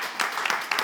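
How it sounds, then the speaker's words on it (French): Audience applause at a live community event in France, a brief burst of dense clapping at moderate loudness filling the whole moment, with small swells but no voices over it. "On va l'applaudir, s'il vous plaît."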